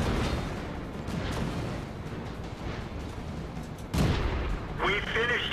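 Tank cannon fire in World of Tanks, a sharp blast bursting out near the four-second mark over a steady rumbling battle backdrop, with a softer whine following.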